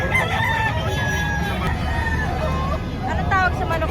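An Alimbuyugin rooster crows at a poultry market in Lipa, Batangas, its long call rising over a steady crowd babble and background noise, with people talking nearby.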